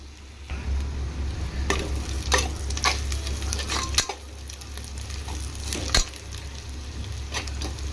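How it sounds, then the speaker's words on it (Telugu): Sliced onions and slit green chillies fry in a pan for egg biryani, a close steady sizzle with sharp, irregular scraping taps of a spoon stirring, and no voices. "ఇంకొంచెం ఫ్రై అయితే మాకు సరిపోద్దండి. ఈ ఆనియన్ ఫ్రై చేసే దాంట్లోనే ఉంటుంది ఫ్రెండ్స్ మాకు టేస్ట్ అంతా."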